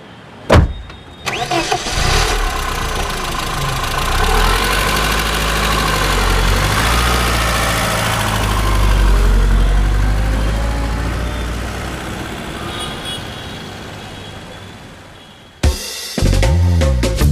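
A car engine cranks and catches, then settles into a steady, loud idle with a low rumbling vibration for several seconds before cutting off, followed by a brief restart, with no talking.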